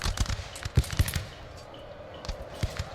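Gunfire from guns in the video game Shogun 2: Total War, with irregular bursts of sharp cracking shots, some clustered and some spaced out, heard at mid distance over a rumbling battle background.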